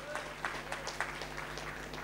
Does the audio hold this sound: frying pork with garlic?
no